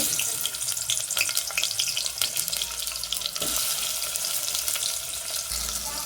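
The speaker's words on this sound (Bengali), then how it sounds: "এখানে তেলটা গরম হয়ে গেছে, এবার আমি পেঁয়াজ দিয়ে দেব।" Onions dropped into hot oil for a radish curry, sizzling and crackling steadily in the pan with a bright hissing spatter throughout.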